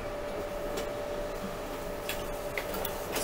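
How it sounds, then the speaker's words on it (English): An office printer runs in the background during a lecture, a steady mechanical hum with faint intermittent ticks and clicks over a continuous noise floor, no speech. "A little background noise, someone's using a printer here."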